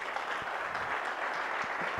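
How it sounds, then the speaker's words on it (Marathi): An audience at a project competition prize distribution claps together in a dense, steady burst of applause that fills the room for a couple of seconds. "टाळ्या झाल्या पाहिजे."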